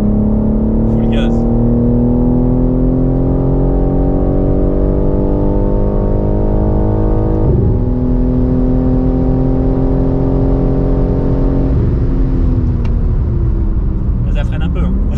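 A car at full throttle on a wet race track gives a loud, close, sustained engine roar that climbs steadily in pitch, drops sharply at a gear change, then climbs again, with a voice talking over it.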